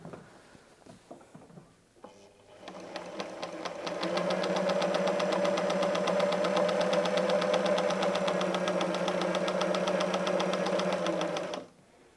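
A sewing machine quilting along the lines of a paper pattern: after a few soft clicks it starts up and runs as a steady, loud, rapid mechanical stitching drone for about eight seconds, then stops, with no talking.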